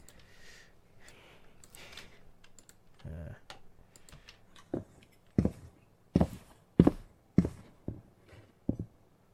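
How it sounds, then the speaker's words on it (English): Footstep effects crafted during sound design for an outdoor scene: after a soft stretch, a run of distinct, fairly close thuds comes in a loose walking rhythm, with quiet talk and clicks faintly underneath early on. "I'm crafting footsteps."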